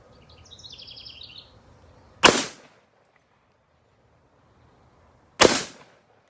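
Two sharp, loud rifle shots from a Remington 81 fired at root beer cans outdoors, about three seconds apart, with faint birdsong before the first shot and quiet between them.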